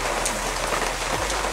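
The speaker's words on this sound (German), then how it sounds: "Es regnet." Steady summer rain falls in Switzerland, a dense continuous patter of drops on surfaces, loud and close with no pauses.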